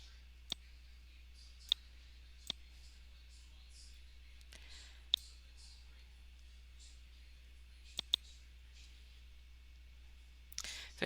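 Computer mouse clicking during trading-chart work, sharp isolated clicks spaced a second or so apart, about eight in all, crisp and close against a quiet background hum, with a brief rustle at the end.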